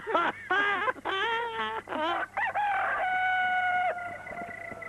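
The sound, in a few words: rooster crowing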